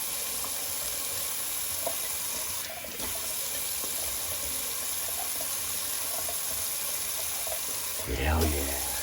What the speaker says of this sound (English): All right, the cold water rinse now.